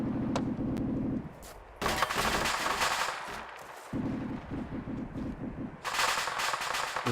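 Machine gun fire from a gunner in the military game Arma 2 comes as loud, rapid bursts, with a long sustained stretch of dense gunfire between shorter rattling volleys, close and dominant throughout.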